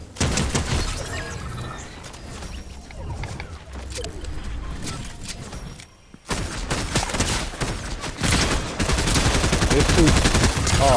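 Gunfire in a video game shootout, rapid bursts and sharp shots with crashing impacts, loud and close, easing briefly before a dense renewed barrage, with voices talking among the shots.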